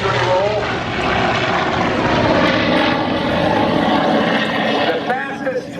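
A Grumman Tigercat twin-engine Navy fighter rolls through a victory roll at an air show, its propeller engines roaring loud and steady, swelling and shifting in pitch as it passes.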